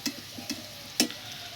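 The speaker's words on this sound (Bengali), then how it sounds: "আলুটা ভাজা হয়ে গেছে লাল লাল করে," Potatoes frying in oil until reddish brown, a low crackle under three or four distinct scraping clinks of a spatula against the pan, close and fairly quiet.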